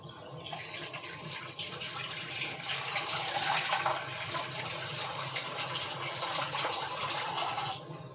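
Water poured into a pressure cooker holding sago, a steady splashing gush lasting several seconds at moderate, close volume with no voices.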